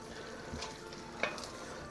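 Aubergine being stirred into a thickened pasta sauce in a pan, a soft scraping stir with a faint background sizzle and one brief clink of the utensil, quiet and close.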